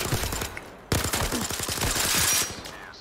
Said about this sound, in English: Oh, that sounds like a powerful gun